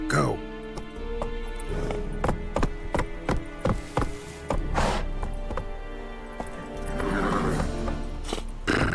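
A horse in The Witcher 3 video game snorts and clops through a busy game soundscape with music, loud and close, while someone talks over it.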